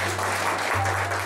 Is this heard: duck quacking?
no